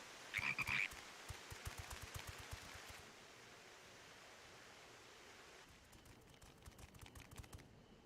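Toads on a bridge croak in Final Fantasy XIV Endwalker: a short, loud croaking burst near the start, then faint, irregular clicks over a low ambient bed, with no voices.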